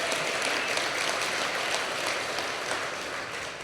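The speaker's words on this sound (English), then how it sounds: "let's give her a round of applause" A crowd at an alumni awards gala gives an honoree a round of applause, with thick, sustained clapping from many hands that sounds steady and full, easing only slightly at the close.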